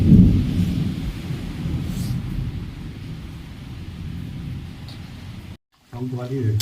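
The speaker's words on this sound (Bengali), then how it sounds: "এত বৃষ্টি আরম্ভ হয়েছে" Dense storm rain pours steadily with a deep rumbling undertone during a power cut; the sound cuts out briefly near the end, then a voice speaks over the downpour.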